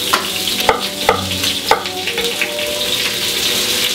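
Chopped onion sizzles in a casserole pan for a lamb navarin, a close, steady frying hiss broken by a few clattering stirs near the start.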